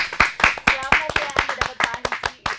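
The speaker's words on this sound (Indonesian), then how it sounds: "Tepuk tangan dulu dong, Bapak Paulu ya." An audience on an Indonesian TV quiz show claps in a quick, uneven burst of handclaps, close and fairly loud, with voices talking over the clapping.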